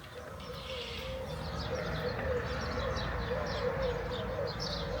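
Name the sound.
birds chirping outdoors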